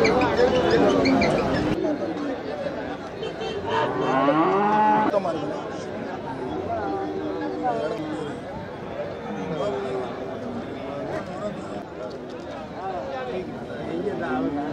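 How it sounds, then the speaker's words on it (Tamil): Cattle lowing at the Manapparai cattle market, several moos rising in the first few seconds among heavy crowd chatter, with people talking throughout and livestock noise mixed into the busy market bustle. "மாடு வந்துருச்சாங்க."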